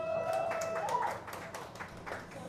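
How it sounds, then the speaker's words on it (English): An audience at a juice brand ambassador launch event applauds, with scattered claps at moderate distance mixed with murmuring voices and a brief tonal sound near the start. "A round of applause, please."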